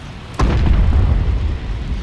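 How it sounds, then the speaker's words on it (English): A cruise missile blast in Call of Duty: Black Ops Cold War, a single loud close explosion with a sharp crack followed by a deep, rolling boom that lingers and slowly fades. "get cruise missile launched"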